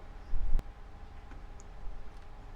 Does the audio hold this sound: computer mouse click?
yes